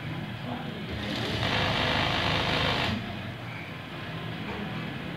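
Sewing machine stitching a double seam along the rounded hem of a men's shirt, a steady mechanical whir that swells louder for about two seconds in the middle before easing back, with faint background noise throughout.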